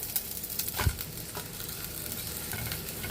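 Gola ruti, a batter pancake, fries in a pan with a quiet, steady sizzle and a brief stirring scrape near the start.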